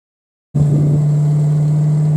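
A Hyundai Genesis Coupe engine fires up after half a second of silence, catching abruptly into a loud, steady, close idle with a strong low hum and rumble, no voices.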